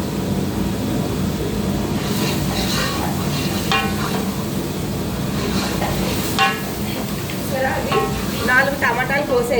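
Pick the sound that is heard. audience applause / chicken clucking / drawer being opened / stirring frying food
stirring frying food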